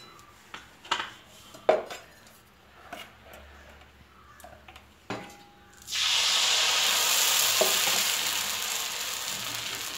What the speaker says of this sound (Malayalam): എണ്ണ തടവി നമുക്ക് മാവ് ഒഴിച്ചു കൊടുക്കാം.